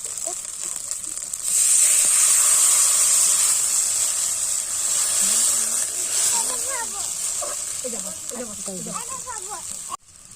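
Water poured over hot fried cumin, ginger and dried chili paste in a pan for a fish curry, a loud sustained hiss and sizzle that slowly fades while someone talks over it.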